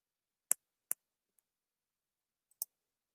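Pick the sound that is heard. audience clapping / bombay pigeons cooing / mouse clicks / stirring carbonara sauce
mouse clicks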